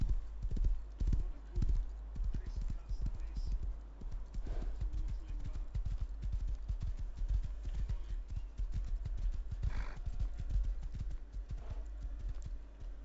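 A horse gallops in the video game Rust, making a rapid, steady run of close hoof clip-clops over a low rumble that lasts the whole stretch, and no one talks.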